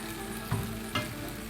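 Pre-boiled pasta tossed into a pan with soybean oil and lemon juice, a steady soft sizzle with two brief stirring scrapes, close and fairly quiet, no voices.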